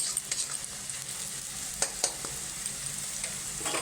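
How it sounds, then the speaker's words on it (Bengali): Sliced onions frying in oil until browned like crisp birista, a faint steady sizzle with a few light spatula scrapes and clicks, no voices. "যেভাবে বেরেস্তা বানাই আমরা, ওইভাবে আমরা পেঁয়াজটাকে আমি ভেজে নিচ্ছি"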